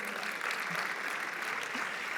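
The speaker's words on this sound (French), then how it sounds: "Est-ce qu'on peut applaudir pour nous les dames?" An audience at the opening of a congress in Marrakech claps steadily, a dense, even wash of applause from a crowd that fills the short moment without pause.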